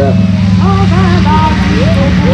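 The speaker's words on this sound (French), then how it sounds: "L'avion qui vous est présenté devant vous est de 91-60" A vintage propeller airplane, a 1944 glider tug, drones steadily at an air show, a loud continuous engine hum under a public-address announcer's voice.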